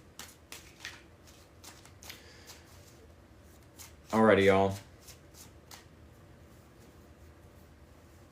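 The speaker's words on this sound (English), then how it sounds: "Let's do 3 more shuffles, shall we? 3 more shuffles." A single quick riffle of shuffling tarot cards, close and crisp, lasting under a second, after a person speaks briefly.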